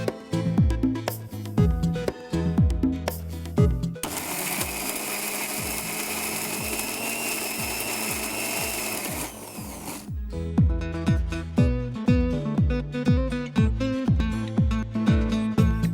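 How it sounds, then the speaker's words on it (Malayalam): Kitchen mixer grinder whirring steadily as it blends spices, onion and vinegar into a fine paste, a loud continuous motor roar lasting several seconds between clattering pulses. "ഇനി ഇതിനെ നല്ല മഷി പോലെ അരച്ചെടുക്കാം"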